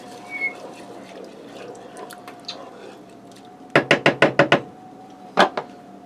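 Rice being stirred into a stuffed pepper skillet, with a quick run of six close metal-on-pan clacks and one more knock a moment later over a quiet kitchen background.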